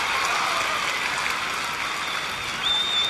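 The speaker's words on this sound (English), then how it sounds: "after a foul ball goes straight back like that and there's applause, you know somebody made a great catch" A baseball stadium crowd claps steadily for a fan's catch of a foul ball hit straight back, a dense, even wash of applause throughout with no voices standing out.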